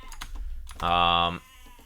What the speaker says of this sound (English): those sheep are making a lot of noises